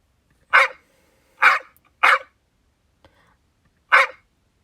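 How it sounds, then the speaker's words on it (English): A single dog barks four times, close and loud, with short sharp barks at uneven intervals and silence in between. "She looked up at me and barked."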